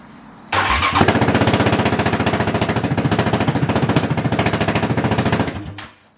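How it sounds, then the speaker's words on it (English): A 2020 Yamaha Raptor 700R ATV engine cold-starts, sputtering to life and running rough and loud with rapid, staccato popping from an open header exhaust, then cuts off after several seconds. "that was a very atrocious cold start"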